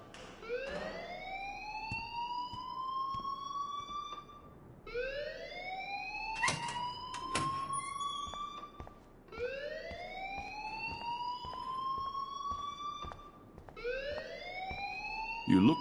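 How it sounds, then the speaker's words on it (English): A school alarm in the video game Life is Strange wails in repeated rising sweeps, about four cycles with short gaps between them, steady and insistent in the background. "please turn off that alarm since that's your job"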